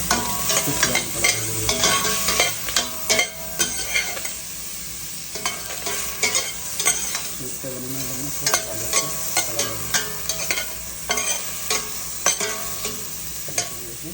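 Spices heat in a hot handi pot with a continuous sizzle, while a utensil stirs and scrapes in a steady run of sharp clicks, close and fairly loud, with no talk.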